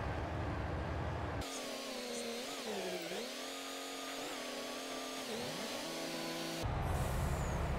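A tractor or harvest vehicle engine in Farming Simulator 22 during a wheat harvest, driving toward the combine, droning loudly and steadily with a whining tone that swoops up and down as the revs shift.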